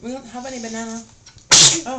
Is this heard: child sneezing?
yes